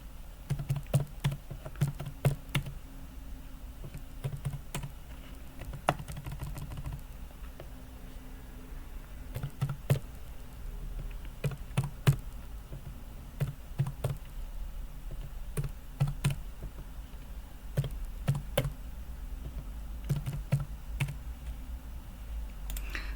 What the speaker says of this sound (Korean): 오른손으로 숫자 키패드에 숫자를 타이핑을 해줍니다